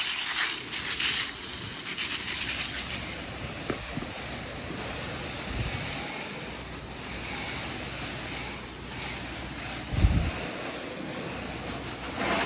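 A soft wash sprayer applies house wash mix to river rocks outdoors, producing a continuous broad hiss of spraying water with wind noise and a few brief bumps.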